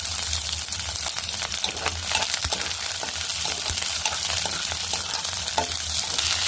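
Onions fry in a pan with mustard seeds and cumin, giving a continuous close sizzle broken by repeated scraping and stirring of the spoon against the pan, with no speech.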